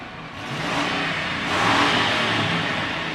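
A Ford pickup from the 1990s–2000s revs its engine up and back, a steady close mechanical roar that swells midway and holds without any talking.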